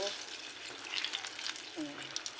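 Sliced bananas frying in a generous amount of oil for banana cue, giving a steady close sizzle with a few brief stirring scrapes and light clinks throughout.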